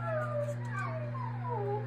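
A human voice imitates a sad dog howling, with several drawn-out, wavering falling wails over a steady low hum.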